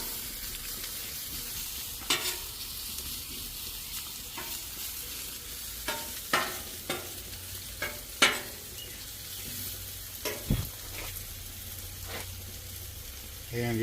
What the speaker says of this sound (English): The onions are nice and sauteed now.